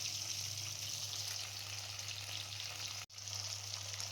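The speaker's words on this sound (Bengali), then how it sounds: "তেল গরম করে কড়াতে আর মাছটা ভেজে নেওয়া হচ্ছে" Fish fries in hot oil in a wok, a steady, even sizzle heard close up, with a brief break near the end, no voices.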